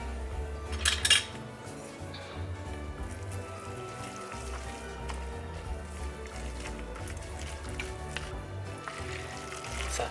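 A wooden spoon stirring in a pot, with occasional clinks and a sharp clatter early on over a low rumbling background, faint and close.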